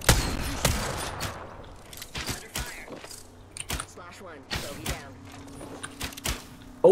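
Sharp bow shots and impact thuds from the Apex Legends Arenas mode, a series of brief cracks spaced irregularly over a low game hum, with a steady tone entering partway through.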